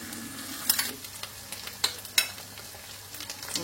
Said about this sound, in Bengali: পেঁয়াজটা বেশ লাল লাল ভাজা হয়ে এলো